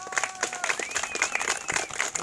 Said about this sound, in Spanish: Vecinos, les pido un fuerte aplauso para todos ustedes.